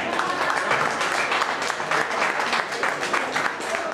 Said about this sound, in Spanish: un aplauso para la gente del lugar